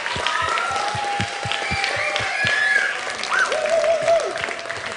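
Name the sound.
audience applause for esports finalist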